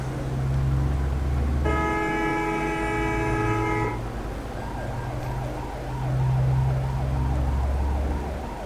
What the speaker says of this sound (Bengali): পুলিশের সাউন্ড হচ্ছে কেন